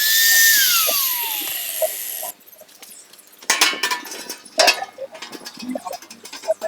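A power drill bores through the metal top lid of a homemade charcoal kiln, a loud whining run that winds down, followed by scattered clinks and metallic handling sounds nearby.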